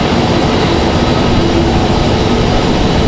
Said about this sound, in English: turn up the volume again for our 777 here as it gets ready for departure here